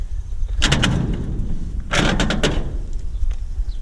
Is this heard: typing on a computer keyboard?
no